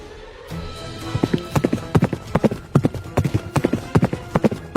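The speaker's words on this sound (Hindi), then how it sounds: "राजा हरि सिंह और मंत्री अश्विन घोड़ों पर सवार होकर घने जंगल से गुजर रहे थे।" Riders on horseback pass through a dense forest, with rhythmic clip-clop hoofbeats that grow louder and quicken into a steady gallop, close and prominent over a low ambient bed.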